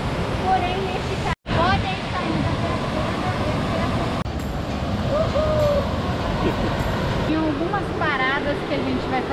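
Waterfalls tumbling over rock formations at a waterfall park in Bonito, Brazil, make a steady, loud broadband rush that fills the whole clip, with faint voices or calls drifting over the water noise.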